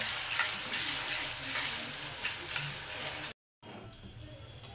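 Potatoes frying in hot oil over a high flame make a steady, dense sizzle that runs on, briefly cuts out, then resumes, with faint scraping in the pan.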